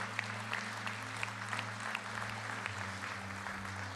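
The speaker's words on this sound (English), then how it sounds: "Can we clap our hands for Mr. Lou as he's heading out?" Hands clapping together in a church congregation, a steady wash of applause that runs under a low sustained musical hum throughout.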